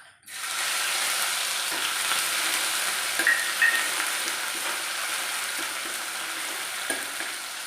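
Chili dropped into well-heated oil sizzles and crackles loudly and steadily from start to finish, close by, with a few small pops and no voices.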